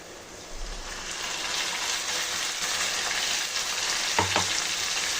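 Steady, loud sizzling of marinated chicken frying in a hot pan for a green chicken curry, with a brief clatter of stirring near the end and no talking.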